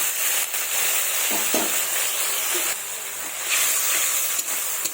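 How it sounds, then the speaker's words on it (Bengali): A spice paste of ground dried chilli, ginger, cumin and garlic frying in a pan with a splash of water, giving a steady, close sizzle and hiss with a few soft stirring scrapes and no talking. "দিয়ে এখন মশলাটাকে ভালোভাবে কষিয়ে নেব"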